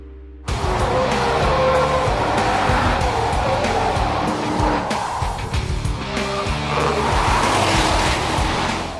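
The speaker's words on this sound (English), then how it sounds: "With the Quattro Maxx you can really flat out accelerate and the grip is fantastic." A car on Dunlop SP Quattro Maxx tyres accelerates hard and loudly, the engine note climbing with tyre squeal and skid noise running steadily throughout, with no talk.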